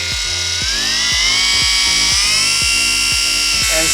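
A Krauss Eco 7 Nano cordless battery polisher runs at high speed with a steady, loud whine that climbs slightly in pitch, its pad making a repeated rhythmic thumping underneath, close and continuous.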